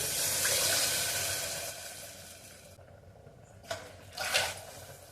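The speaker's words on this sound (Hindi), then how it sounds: "देखो इस बघार में मैं पानी डालती हूँ।" Water pours into a hot spiced tempering in a cooking pot for chicken curry, a loud rushing hiss and gurgle for about three seconds that eases off, followed by a couple of short splashy bursts near the end.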